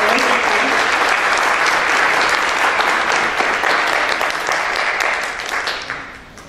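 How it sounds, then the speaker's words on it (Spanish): Sustained applause from an audience at a Mexican photography contest award ceremony, loud dense clapping that holds steady and then fades toward the end. "Les pido un aplauso para ellos."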